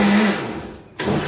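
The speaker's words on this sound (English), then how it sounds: "If your blender seems to be just spinning" A blender motor, blending greens and water for a smoothie, whirs steadily with a low hum, fades slightly, drops out briefly, then kicks back in loud and close.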